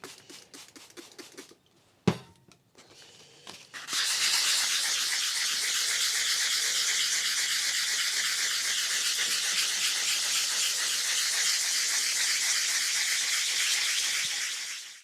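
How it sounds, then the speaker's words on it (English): An Apple IIe Platinum computer case is wet sanded with 400 grit sandpaper, giving a steady, raspy back-and-forth rubbing that runs close and continuous. A few clicks and light handling noises come before it. "My next step is to wet sand this with about some 400 grit"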